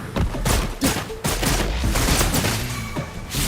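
Rapid bursts of gunfire from the video game Wuthering Waves ring out loud and close, a dense fusillade of overlapping shots with heavy thumps, almost no talk.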